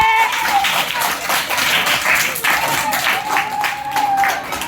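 A group of children claps in a rapid, dense patter that runs the whole time, close and fairly loud, with a voice sounding faintly through it.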